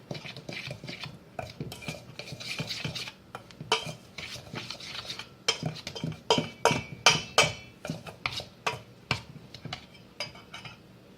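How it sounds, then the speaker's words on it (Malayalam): Baking powder and a pinch of salt are mixed into the batter for an orange crumb cake, heard as a run of irregular spoon scrapes and knocks against a bowl that grow busier and louder midway. "ഇനി നമുക്ക് ഈ മെയിൻ മിക്സ്ചറിലേക്ക് ഈ ബേക്കിംഗ് പൗഡറും 1 പിഞ്ച് സോൾട്ടും കൂടെ ഇട്ട് അത് മിക്സ് ചെയ്ത് വെക്കാം"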